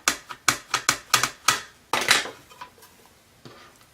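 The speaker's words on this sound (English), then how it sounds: "now I'm going to stamp another row" Rubber stamp pressed down on paper repeatedly in a row, giving about eight sharp, close taps in a quick steady rhythm, followed by a few softer handling sounds with no talking.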